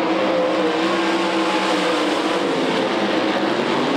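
Modified race cars roar around Knoxville Raceway's dirt oval on the final lap into turn three, a dense, continuous engine drone at steady loudness with a low rumble and no voices.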